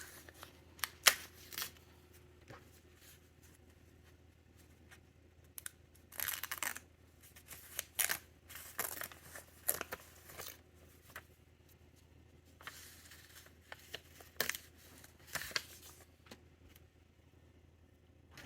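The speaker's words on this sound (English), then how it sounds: "and then just rip them all off at the same time" Paper being ripped off paper-pieced quilt blocks, heard as a series of short, crisp tearing rips in irregular bursts, close and fairly quiet, separated by pauses.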